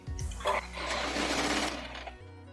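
A sewing machine runs a brief burst of stitching while sewing a double seam on a floral print long gown. The motor whirs close up for about two seconds and then stops.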